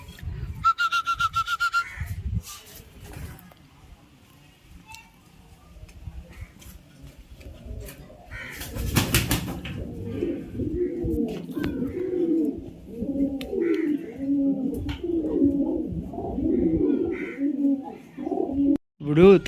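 Racing homer pigeons coo repeatedly in rhythmic, rolling calls at close range. There is some ticking and handling noise, and a voice speaks intermittently.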